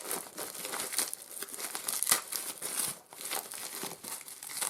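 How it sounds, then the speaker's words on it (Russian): A plastic packet holding spare sharpening stones for a knife sharpener is pulled open up close, with crisp continuous crinkling and a few tearing rustles. "Дальше открой, пожалуйста, вот этот пакетик."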